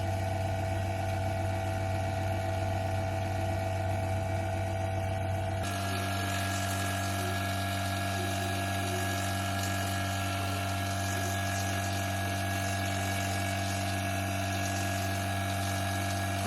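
A pump runs continuously while drawing air during a DIY split heat pump installation, a steady, loud mechanical hum with a whining tone. Partway through, its pitch and texture shift abruptly, and no one speaks.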